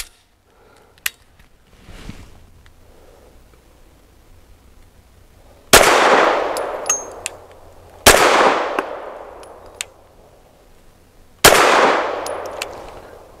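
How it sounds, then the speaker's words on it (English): A Walther P99 AS pistol fires 90 grain lead-free rounds outdoors, three loud sharp shots spaced a few seconds apart, each with a long echoing decay, after quieter handling clicks. "That was very pleasant shooting."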